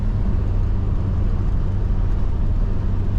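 A 1988 Suzuki SJ413 Samurai engine drones steadily while climbing a gentle incline in gear, a continuous low, even hum inside the cab with no voices.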